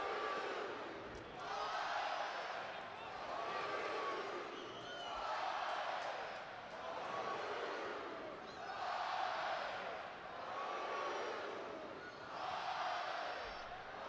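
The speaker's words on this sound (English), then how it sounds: "And the crowd is alive here at Dudy Noble." Baseball crowd at Dudy Noble Field for a Mississippi State home game against Vanderbilt, cheering and roaring in steady rolling swells that rise and fall every couple of seconds, loud and continuous throughout.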